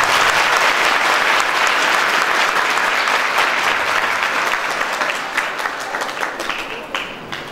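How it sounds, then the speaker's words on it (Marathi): A seminar audience, at a youth event in Jalgaon district, breaks into loud, dense applause that holds steady and then thins and fades toward the end. "त्याच्यासाठी एका जोरदार ताळ्या वाजवतो"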